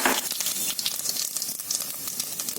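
Cumin seeds go into hot oil already holding mustard seeds, urad dal and fenugreek for a sambar tempering. They set off a bright, crackling sizzle that starts strong and keeps hissing close by.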